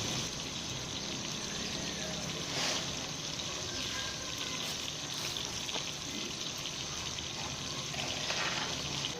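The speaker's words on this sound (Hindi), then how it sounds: "देखिए पानी हमारा बॉयल होने लग गया" A steady, hissing rush of water starting to boil in a pot fills the clip, continuous and close, with occasional faint clinks in the background.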